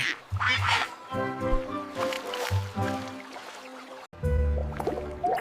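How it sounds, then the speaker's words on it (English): A duck quacks repeatedly in close, loud, nasal bursts, with a brief pause before a final run of quacks. "The duck says quack, quack"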